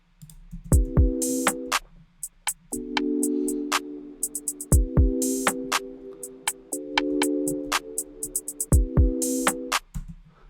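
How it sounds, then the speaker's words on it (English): A programmed drum beat built from the Cryptic Nature Noise kit, with punchy kicks and crisp hi-hat ticks in a steady repeating pattern under sustained tonal synth chords, loud and without any voice. "went straight to the drums after this. And I used cryptic nature noise."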